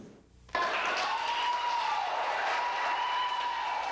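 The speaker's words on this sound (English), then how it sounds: "A huge cheer from striking teachers as leaders of both teacher unions arrived at the governor's office." Striking teachers cheer and applaud as union leaders arrive at the governor's office, a sudden burst of loud clapping and shouting that starts abruptly and holds as a steady, dense crowd roar with whistles above.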